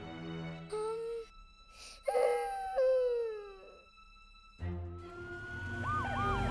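Cartoon emergency vehicles, a fire engine, an ambulance and a police car, sound off with wailing sirens that rise and fall in several overlapping bursts, clear and fairly close, with rumbling noise building toward the end.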